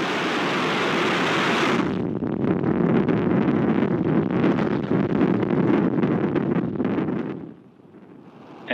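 SpaceX Falcon 9 rocket engines roaring after liftoff, a loud, broad, crackling rumble that holds steady for several seconds before dropping away abruptly.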